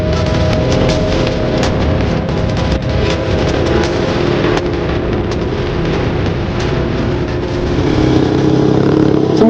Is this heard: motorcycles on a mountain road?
yes